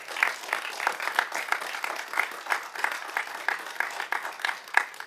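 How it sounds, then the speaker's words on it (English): Scattered applause from an audience at a city commission meeting's presentations and awards, moderate and fairly distant, with uneven clapping rhythms and a few sharper claps. "I think that deserves a big round of applause."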